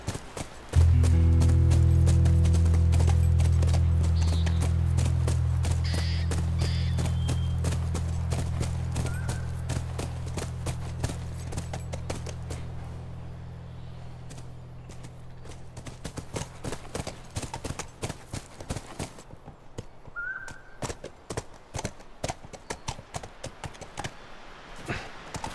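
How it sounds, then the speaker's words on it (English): Horse hooves clip-clop in the video game The Last of Us, a steady rhythmic patter that continues throughout over a low drone that fades away. "Look, by the ranch. That's our horse."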